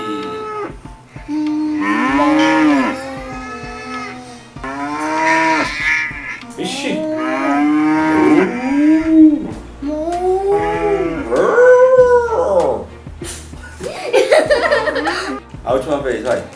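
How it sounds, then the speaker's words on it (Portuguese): A bull or ox moos repeatedly in long, drawn-out calls, loud and near, as part of an animal-sounds guessing game, with people chuckling and speaking between the calls. "O vídeo do boi."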